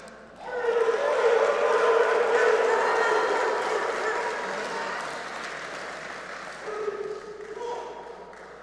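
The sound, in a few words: audience applause at engineering ceremony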